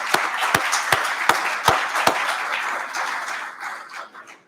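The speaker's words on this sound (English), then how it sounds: "Let's give her a big round of applause." Loud, distinct single claps ring out at a steady pace beneath a softer bed of audience applause at a faculty and staff service awards ceremony, the sharp hits stopping partway while the wash fades out.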